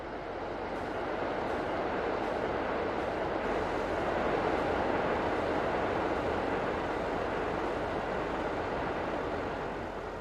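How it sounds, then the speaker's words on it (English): A train rolls past in the farming video game Farming Simulator 19 on the Chellington Valley map, giving a steady, broad rumble that swells slightly in the middle and holds for about ten seconds without a break. "there goes the train"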